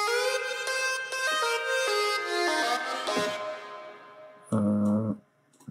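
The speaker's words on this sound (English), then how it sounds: "So the first vocal lead is from Serum." A bright, vocal-like synth lead made in Serum plays a descending melodic phrase with layered harmonics, then a short, loud chord stab before falling quiet.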